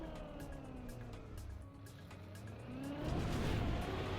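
Car in Trackmania braking and accelerating, engine note sweeping down then rising again with a faint tire squeal, ending in a louder surge of acceleration; quiet overall with no speech.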